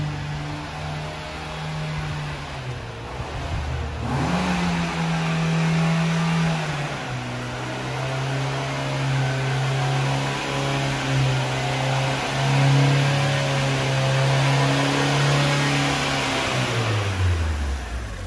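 Fiat Uno engine revving repeatedly, close and loud, the pitch rising and falling through several sustained revs before dropping back toward idle, with no talk.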